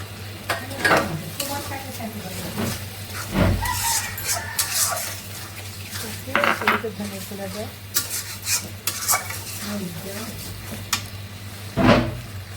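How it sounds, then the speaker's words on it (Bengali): Prawns sautéed with spices in a pan, cooked in a Bengali home kitchen: steady sizzling with repeated scraping and stirring strokes, close and moderately loud, with a low steady hum underneath and brief clatters of utensils. "চিংড়ি মাছটা মশলার সঙ্গে কষিয়ে নিচ্ছি"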